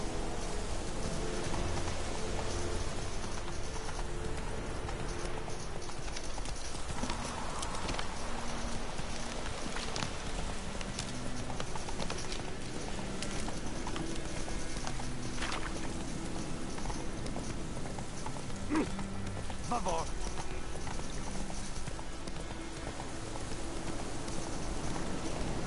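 In The Witcher 3, a horse's hooves clop along in steady rhythm through falling rain, quiet and blended with birdsong and the patter of rain across the whole stretch.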